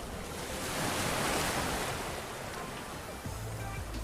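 Surf washes in and out at Nuan Beach on Koh Larn, Thailand, a steady broadband roar of waves close by. Gusty wind buffets the microphone throughout.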